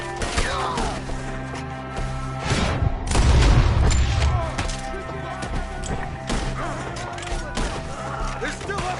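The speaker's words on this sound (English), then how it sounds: "Shoot them up there first!" A shootout in Red Dead Redemption 2 against enemies in the trees: repeated gunshots and heavy booms, with a loud burst near the middle, over a tense musical score and shouting voices.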